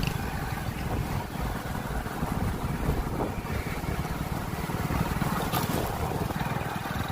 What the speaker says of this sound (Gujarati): હું અત્યારે ચાલુ બાઇક ઉપર છું અને ઓફિશિયલી ડ્રાઇવિંગ કરી રહ્યો છું